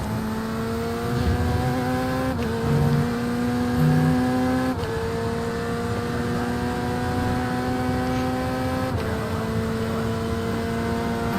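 LMP2 prototype race car at Virginia International Raceway in iRacing, its engine droning steadily and loud throughout, with tonal pitch dropping at several gear changes before climbing again, no voices present.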